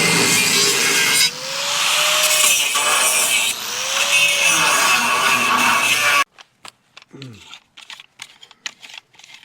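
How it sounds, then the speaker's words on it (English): Angle grinder grinding metal on a trailer frame to clean areas for welding, a loud continuous broadband grind with brief pitch dips under load, cutting off abruptly to quieter scattered clicks and a short voice. "So as we're grinding, it's cleaning off the areas where we need to weld"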